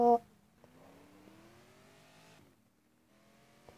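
Car engine in a racing video game, a faint steady drone that rises slowly in pitch as it revs, preceded by a short loud burst at the start and ending in a brief lull with a small click.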